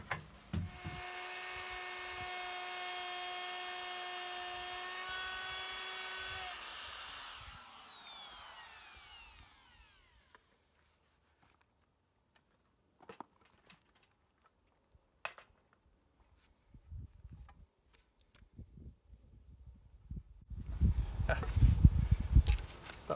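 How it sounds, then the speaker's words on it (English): Wood router cutting drainage grooves in a timber roof-light frame gives a high, steady whine for about seven seconds, then winds down into near silence with scattered knocks and a louder rustling burst at the end. "That's the drainage grooves routed."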